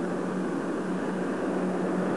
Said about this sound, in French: Simplement en augmentant la poussée des réacteurs de sustentation.